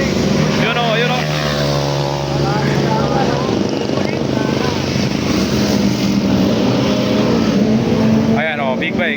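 Big bikes racing on the Marilaque highway, a loud continuous roar of motorcycle engines passing and revving close by, with excited talk from spectators over the noise.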